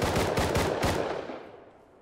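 Rapid bursts of gunfire from the survival video game Rust, several close, loud shots in quick succession that trail off into a fading echo.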